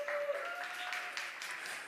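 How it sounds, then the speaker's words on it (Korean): Applause from a congregation during a lively church worship gathering: a faint, steady wash of many hands clapping, with a thin sustained musical tone running beneath for about two seconds. "빨리 박수 한번 주세요."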